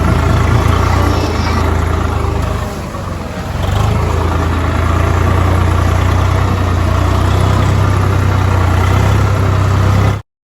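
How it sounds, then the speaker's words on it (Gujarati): A tractor engine drones steadily and fairly loud while driving along a flooded farm road toward a castor field to plough it. The engine dips briefly, then runs on evenly until it cuts off abruptly at the end. "આપણે ટ્રેક્ટર લઈને જઈ રહ્યા છીએ એરંડા ખેડવા માટે"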